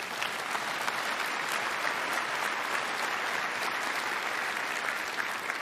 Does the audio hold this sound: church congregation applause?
yes